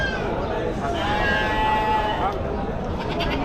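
Goats bleat repeatedly amid the crowd at the large Chakan goat and sheep market in Maharashtra, their cries rising over steady market bustle and nearby talk.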